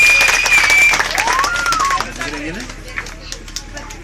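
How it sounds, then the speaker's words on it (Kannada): Audience applauding after a stage performance, a burst of clapping that thins out over a few seconds, mixed with talk and a whistle-like tone near the start. "ತಾವೆಲ್ಲರೂ ಚಪ್ಪಾಳೆ ಮೂಲಕ ಅವರನ್ನು ಅಭಿನಂದಿಸಬೇಕಾಗಿ ಕೇಳಿಕೊಳ್ತಾ ಇದ್ದೀನಿ"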